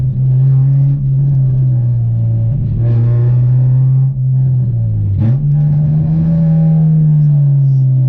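A stripped-out, straight-piped Honda Civic EP3 Type R drives with a loud, steady engine drone that dips briefly around a downshift, a constant close rumble throughout.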